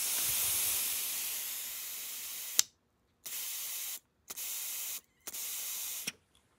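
Air is blown through a Kawasaki KFX80 ATV carburetor, giving a long, close, loud hiss followed by three shorter sharp bursts of rushing air separated by silence.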